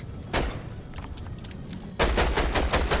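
An AR rifle fitted with a scope fires in a video game: rapid automatic bursts, first a short volley, then a loud sustained string of close shots in the final second.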